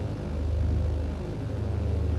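A simulated aircraft engine in Microsoft Flight Simulator idles while the plane taxis, giving a steady, loud, low droning rumble that holds evenly throughout with no talking.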